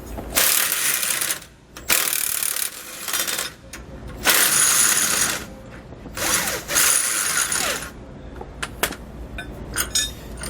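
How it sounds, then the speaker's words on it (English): A 1 1/8 socket and wrench work the lower shock nut and bolt loose on a 2020 Winnebago Vista motorhome, with close metallic ratcheting, clinks and scraping in irregular bursts and short pauses. "we want to grab a 1 1/8 socket and wrench, and we can pull this nut and bolt out."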